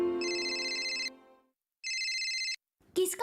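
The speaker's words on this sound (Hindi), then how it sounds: "किसका फोन है?" A telephone rings twice in a household scene, each burst a steady electronic trill lasting about a second, loud and close, with a low hum under the first ring and a brief voice afterward.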